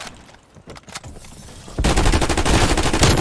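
Galil rifle fire in Call of Duty Warzone: a few scattered distant shots give way to a sustained, loud burst of rapid automatic fire close at hand.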